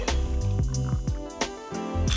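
Gin is poured into a blueberry and thyme Collins cocktail glass, a close, steady liquid gurgle with small drips and squishy bubbling, heard alone.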